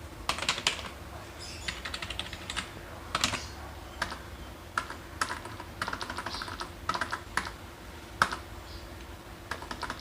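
Someone types a GSTN number on a computer keyboard, producing quick bursts of close key clicks with short pauses between groups, in a quiet room.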